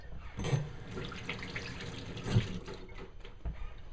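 Water runs from a tap as BBQ ribs are washed, a soft, steady trickle close by with a few faint splashes and knocks.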